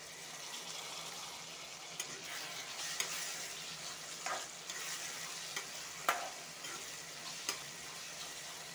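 Chopped tomatoes sizzle softly in a hot pan for a cucumber sabji, with a steady fry under scattered clicks and scrapes of a spoon stirring, quiet and close, no talk.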